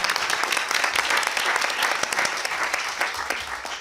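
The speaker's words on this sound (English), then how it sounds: "Big round of applause for the latecomers." Steady, enthusiastic applause from a quiz show audience, many hands clapping at once at close range, sustained without letup.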